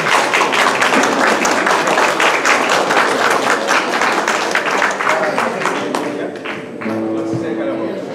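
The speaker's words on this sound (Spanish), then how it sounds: "Vamos a recibirlos con aplausos." Audience at a Spanish-language book presentation and honor-medal ceremony clapping steadily, a dense roomful of hands that thins out toward the end while voices and a few tones rise underneath.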